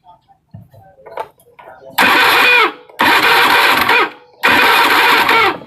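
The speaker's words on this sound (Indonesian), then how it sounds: "kemudian akan saya starter ya" A Honda Beat FI scooter with no ignition is cranked on its electric starter in a workshop: three loud, long whirring cranking bursts of about a second each, separated by short pauses, after faint clicks and handling noises, with no catch.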